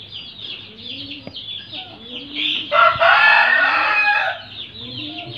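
Hen clucking close by among brooding chickens on a Filipino farm, with turkey chicks and chicks also kept, a steady run of soft clucks building to a louder, harsher stretch of calls midway before settling again.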